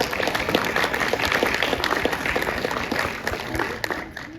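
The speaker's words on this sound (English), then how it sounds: "Give yourselves a round of applause." Convention crowd at a Star Wars fan panel claps for itself, a dense, close burst of applause with some voices mixed in, easing slightly toward the end.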